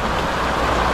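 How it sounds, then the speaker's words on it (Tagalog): Rain seen from a window falls as a dense, continuous hiss, steady and fairly loud throughout, with no voices. "titingin-tingin ng ulan"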